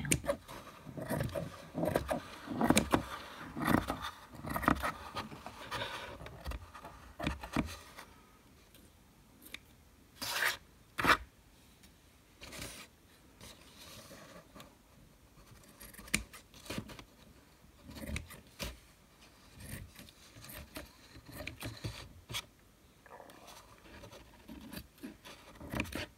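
Scissors snip repeatedly through yarn while trimming a handmade yarn ostrich feather, giving soft, quiet, irregular cuts and rustles that are denser at first and then sparser.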